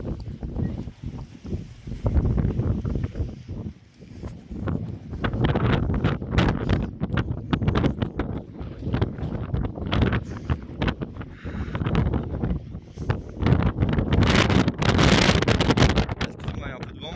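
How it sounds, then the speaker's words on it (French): Strong gusts on a beach in Spain buffet the microphone in continuous roaring bursts, with a voice speaking faintly underneath. "Ah, il y a du vent aujourd'hui par contre"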